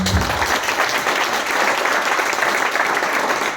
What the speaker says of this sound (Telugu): చప్పట్లు కూడా దేవుని నామమున